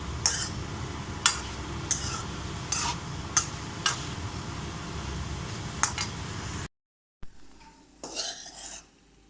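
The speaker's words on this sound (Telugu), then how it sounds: "బాగా ఇలా ఫ్రై చేసుకోవాలి పచ్చి వాసన పోయే వరకు." Paneer frying in a kadai for paneer matar masala, with a utensil scraping and stirring in steady strokes and sharp metallic clinks at intervals, close up, then a short pause and a few quieter stirs.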